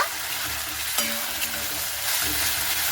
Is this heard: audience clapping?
no